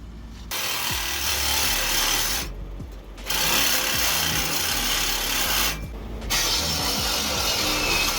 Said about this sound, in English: I want to cut the frame extension, not the wire bundle that it's attached to